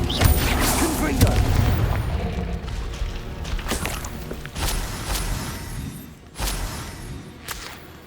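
A Confringo spell in the video game Hogwarts Legacy sets off a string of loud booming blasts and thuds, several explosions in a row, with a voice speaking over them.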